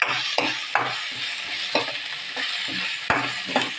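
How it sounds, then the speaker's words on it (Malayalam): Curry leaves and tomato sautéing in a pan, with a steady sizzle under a series of quick rhythmic scrapes and taps of the spatula, close and fairly loud. "കരിയാപ്പിള ചേർക്കുകയാണ് അതിൻ്റെ കൂടെ ഈ തക്കാളിക്കായിട്ട് ഇടും"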